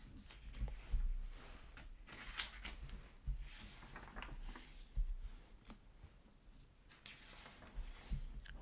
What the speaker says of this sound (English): I hope you enjoy the sound of page turning.